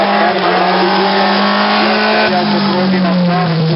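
A race car at the Ilirska Bistrica hill climb accelerates hard past the microphone, its loud engine note rising and shifting with a brief tire squeal while a commentator talks over it.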